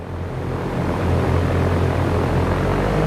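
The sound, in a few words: aircraft engine at takeoff power in X-Plane 11 video game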